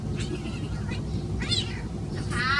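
Several short, high, wavering cat meows come at intervals, close and clear, while people talk quietly in the background throughout.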